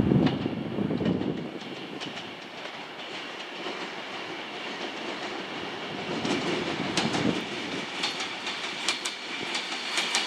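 Avanti West Coast Pendolino unit 1A30, the 12:22 Liverpool Lime Street to London Euston service, rumbling along with a steady broadband roar and occasional rhythmic clickety-clack of wheels over rail joints, heard throughout at close, constant level.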